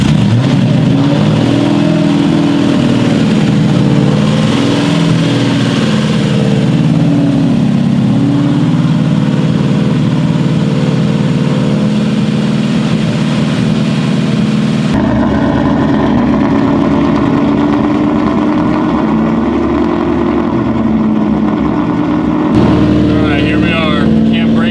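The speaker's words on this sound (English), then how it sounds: "Engine's smoothing out a little bit." A built Ford Mustang GT V8 runs loud and rough at its first start while the cam breaks in, a steady rumbling drone that shifts in tone partway through, with someone speaking over it.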